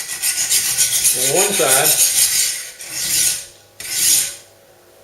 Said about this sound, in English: it's just a matter of strokes like this, in and out and in, up and down. But first I have to form a burr